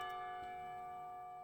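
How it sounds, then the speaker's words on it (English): A clock tower bell rings in the visual novel game Katawa Shoujo: a sustained, resonant tone with steady overtones that slowly fades, alone and moderately quiet. "The clock tower bell rings, signaling the end of the period."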